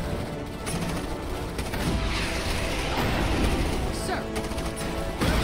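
Continuous gunfire from troopers in the strategy game Starship Troopers Terran Command, dense rapid shots layered with battle noise, while a voice speaks briefly over it.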